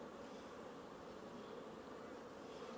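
Honeybees in an open hive being split make a dense, steady hum close by, a continuous low drone with no pauses and no voices.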